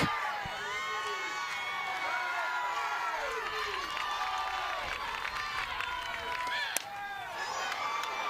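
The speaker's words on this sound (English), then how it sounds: "this is now, the whole crowd is into it, both sides" A large softball stadium crowd cheers and shouts continuously at a college championship game, a dense roar with whistles and children's yells, while a commentator talks over it.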